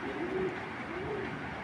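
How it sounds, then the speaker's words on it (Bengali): Soft, low cooing from an original Bagha pigeon, one of a spring-necked pair, in two drawn-out phrases over steady background hiss. "একবারে অরিজিনাল বাঘা কবুতর"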